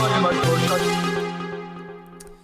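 Synth bass line from an electronic music remix, a sustained low tone with steady repeating notes under layered harmonics, fading slightly toward the end, with no voices.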